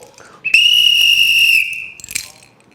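A single loud, sharp whistle blast, held for about a second and close by, followed by a short fainter trill as it fades.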